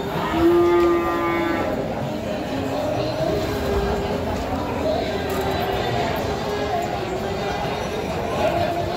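Sheep and cattle at a busy livestock market in Tanjungsari, Sumedang, with bleats and lows rising over a dense crowd din of chatter and movement throughout.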